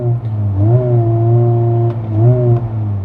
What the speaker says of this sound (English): Let's listen to the soundtrack, the exhaust note. Let's rev the car up.